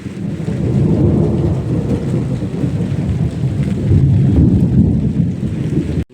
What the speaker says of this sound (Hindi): और देख सकते हो बारिश गिरना चालू हो गया है।